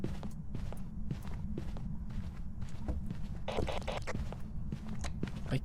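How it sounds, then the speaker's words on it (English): Ghost footsteps in the horror video game Phasmophobia, a steady run of heavy thuds over a low background rumble, with a brief burst of louder noise midway through. "I can hear its footprints, or its footsteps."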